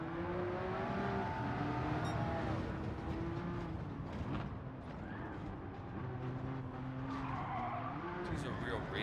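Racing cars in a video game skid and squeal their tires continuously over steady engine drone, loud and sustained throughout, with a voice talking underneath.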